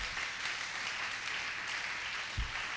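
A congregation at a church service applauds in a steady, dense wash of clapping that carries on evenly throughout at moderate volume, with a brief low thump near the end.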